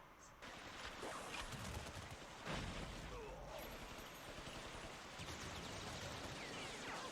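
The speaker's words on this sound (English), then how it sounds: "I like how the shots are going up the stairs with him." Gunfire crackles through an action scene in the Cowboy Bebop anime, rapid bursts and sharp cracks layered over dense, noisy sound and a few louder hits, with voices talking beneath.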